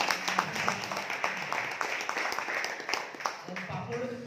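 Scattered, fairly close clapping from a gathering at an entrepreneurs' event in Pakur, uneven and moderate in volume, mixed with a murmur of voices.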